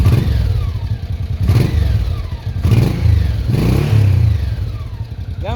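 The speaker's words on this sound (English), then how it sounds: "I just started the bike up with the new jets." A 1984 Honda Shadow 700 motorcycle engine with new carburetor jets idles close by at about 1,000 rpm with no choke, a low, uneven rumble swelling in a few brief surges roughly every second or so.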